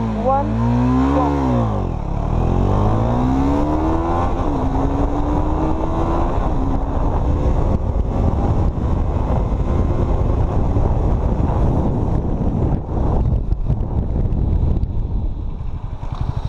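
A 2017 KTM Duke 250 motorcycle accelerates hard from about 100, its engine note climbing through several gear shifts with loud rising revs and heavy wind rush close to the microphone.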